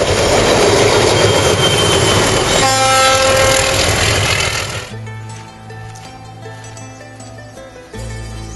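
Train passing close on a railway track near Aguas Calientes, a loud rush of wheels and clatter with a sustained horn blast, then fading to a lower rumble.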